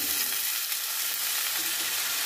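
Potatoes fry in oil in a wok, giving a steady, even sizzle that fills the whole short stretch with broadband hiss and no voices.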